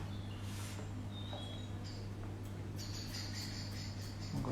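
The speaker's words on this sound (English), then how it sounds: "I've got the birds here cheering me on" Soft high bird chirps and short song phrases over a steady low hum, fairly faint and distant, with no talking.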